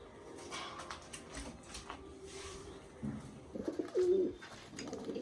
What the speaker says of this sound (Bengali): দেখুন ফ্রেন্ডস পায়রাগুলি ছাড়া অবস্থাতে দেখাচ্ছি, দেশি গিরেবাজ এটা